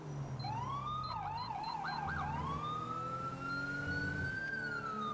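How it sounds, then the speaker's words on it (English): A loud LSPD police siren in a video game wails, rising and falling with a brief rapid yelp burst before settling into a long sweeping tone. "I just realized this has the LSPD siren"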